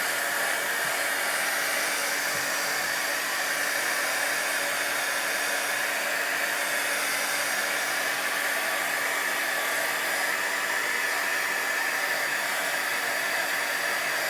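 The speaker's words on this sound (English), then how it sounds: "So I'm gonna go in here and dry this with my heat gun" A heat gun blows steadily up close, drying paint on a Chalk Couture chalk transfer, giving an unbroken, loud airy roar that never changes for the whole stretch.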